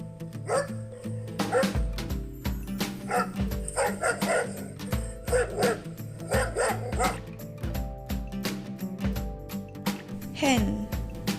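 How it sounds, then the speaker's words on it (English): A dog barks and yips repeatedly, close and loud over a steady musical backing, with short whimpering calls between the barks. "Dog."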